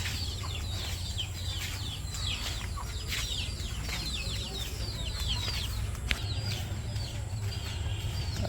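Hens and their chicks cluck and peep outdoors, with many rapid high chirps from the chicks over a steady hum of background noise, fairly close and continuous.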